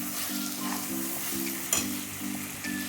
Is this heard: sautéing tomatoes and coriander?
yes